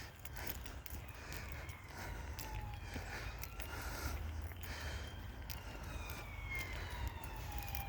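Emergency vehicle sirens wail faintly in the distance around Rochester, rising and falling tones drifting over a low background hum heard during an outdoor morning walk.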